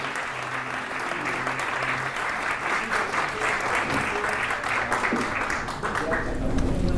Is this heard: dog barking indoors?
no